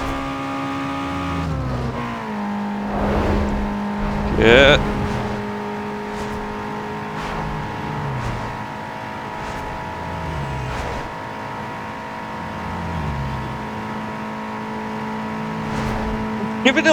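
A race car engine in a Need for Speed Underground 2 drag race holds a steady, strained, buzzing drone with a brief surge of revs near the middle, while a single short word is spoken over it.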